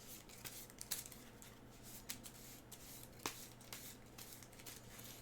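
A deck of cards is shuffled during a Cthulhu: Dark Providence board game, a faint papery riffling and flicking with scattered sharp snaps over a steady low background hum, no talking.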